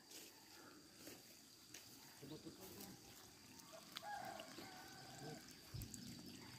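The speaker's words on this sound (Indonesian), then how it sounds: "Terdengar suara ayam berkokok di sana." A rooster crows somewhere in rural countryside near rice fields, faint and distant amid outdoor ambience with trickling water and scattered background noises.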